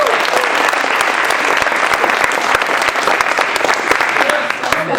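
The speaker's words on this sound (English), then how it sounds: "let's give yourselves a round of applause since you'll be choosing the winner tonight" Audience applause at a Christmas banquet, a dense, steady clapping from a crowded room that holds loud throughout and tapers slightly at the end.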